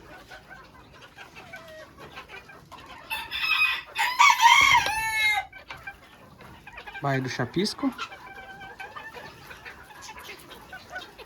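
Chickens, including a naked-neck breed, cluck and squawk nearby in loud bursts while scratching at scattered feed, with a rooster-like crowing call, while a person speaks briefly over the farmyard noise.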